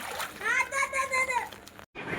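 Water splashing down in a short burst, with a voice sounding over the splash through most of it before a brief moment of quiet.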